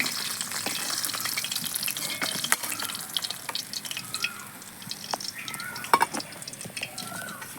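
Rohu fish heads fry in hot oil in a kadai, a soft continuous sizzle with small pops and crackles, fairly quiet, no talking.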